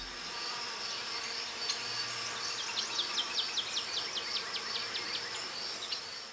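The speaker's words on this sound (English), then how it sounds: "This is the case with the cliff honeybees in Tasikmalaya, Indonesia" Wild cliff honeybees buzzing in Tasikmalaya, Indonesia, a faint continuous hum with a run of quick rhythmic pulses, heard from a distance without voices.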